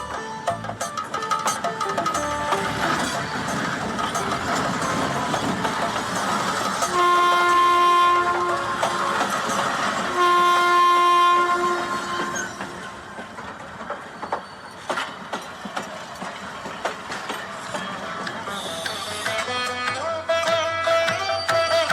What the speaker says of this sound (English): Let's get into the train.